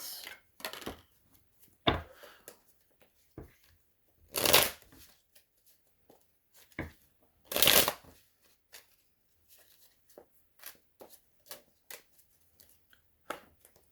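Tarot cards are shuffled in quick, crisp bursts, with two louder riffling flurries standing out among lighter snaps and taps of the deck. The sound is close and there is no talking.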